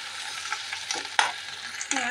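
Curry leaves fry in hot oil with garlic paste in a pan as a spoon stirs them. The soft sizzle carries scattered scrapes and a few sharp clinks, with no talking.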